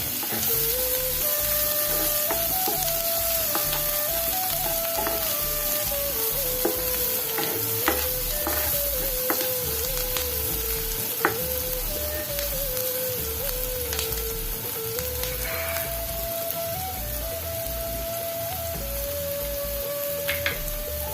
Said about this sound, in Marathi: कांदा चांगला थोडासा भाजून घ्यायचा आहे